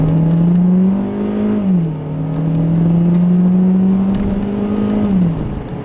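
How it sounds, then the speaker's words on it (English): A 2014 Kia Soul with a 2-liter four-cylinder engine hums steadily while driving, a close, loud buzzing drone that rises and dips slightly with throttle, heard alone without talk. "The engine does have a little bit of buzz, but that's expected. It's a 2-liter 4-cylinder engine."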